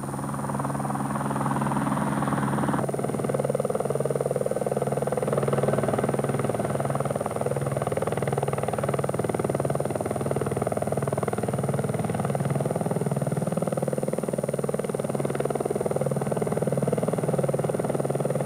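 Helicopter carrying a technician, guiding the pilot low over power line pylons; a steady, loud rotor and engine drone continues throughout, close and unbroken.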